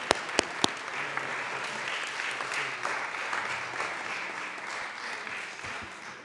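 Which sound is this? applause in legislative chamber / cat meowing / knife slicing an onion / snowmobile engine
applause in legislative chamber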